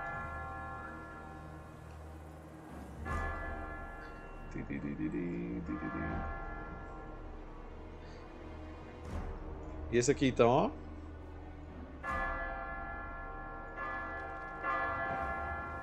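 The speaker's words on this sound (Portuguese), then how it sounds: "Por que tá tocando sino aí, mano?" A bell rings repeatedly in Total War: Warhammer 3, with a sustained tolling layered under game music and effects while a player speaks Portuguese.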